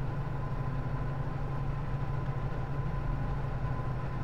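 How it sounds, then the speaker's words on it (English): Low, steady exhaust rumble from a 1969 Lincoln Mark III with dual exhausts, cruising at about 45 mph; a faint, even drone heard from inside a quiet cabin, with no voices. "There's a little bit of exhaust rumble because I have dual exhausts on here."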